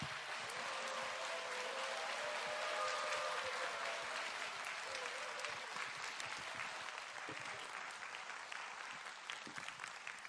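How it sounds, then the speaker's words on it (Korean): A church congregation at an autumn revival service claps steadily and loudly for about ten seconds to welcome the pastor, a dense, even wash of applause with no speech over it. "우리 박수로 모시겠습니다"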